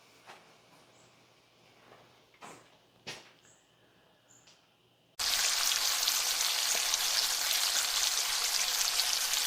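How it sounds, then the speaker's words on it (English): Onions frying in bacon fat, a dense, loud sizzle that begins abruptly halfway through after some quiet clinks and knocks of cookware. "getting nice and translucent, cooking in this bacon fat."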